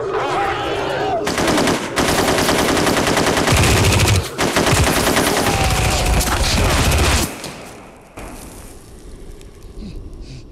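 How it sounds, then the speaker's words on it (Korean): Sustained machine gun fire in a battle, dense bursts of rapid shots and heavy booms for about seven seconds, loud and close, then fading to a quieter rumble with scattered distant reports. "숨통을 쥐어오는 공포에 못 이겨 결국 총을 난사하지만 되돌아온 것은 수십 발의 총알 세례"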